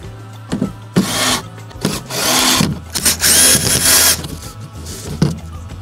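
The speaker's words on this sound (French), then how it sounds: "il n'y a plus qu'à visser les tasseaux sur la planche." Power drill driving screws through wooden battens into a board for floor insulation in the boot of a Dacia Duster: several close whirring bursts of varying length, with short pauses and handling knocks between them.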